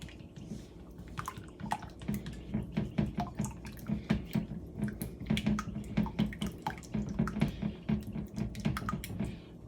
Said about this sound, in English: I'm just gonna break up the eggs